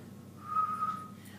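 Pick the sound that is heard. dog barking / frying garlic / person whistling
person whistling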